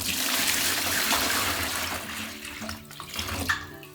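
Very cold stream water pours from a bucket indoors in an off-grid home with no running water, a steady rushing splash that thins into a trickle and scattered drips.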